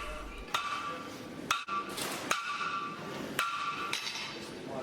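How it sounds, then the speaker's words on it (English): A baby sledgehammer strikes hot metal on the horn of an anvil in a forging challenge, sharp ringing blows about once a second, close and loud, with the metallic ring lingering between hits. "he slams baby sledge into the bick of the anvil with his grip at the very end of the hammer"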